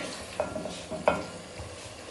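Chicken biryani ingredients being stirred in a pot, a soft sizzle with two distinct scraping stirs, quiet and close, no talk.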